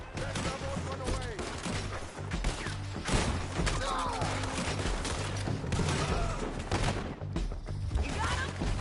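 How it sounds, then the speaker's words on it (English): Artillery and gunfire in the video game Red Dead Redemption 2, a dense barrage of booming blasts and rapid shots with heavy thuds, loud and continuous, with shouting voices mixed in. "Artillery!"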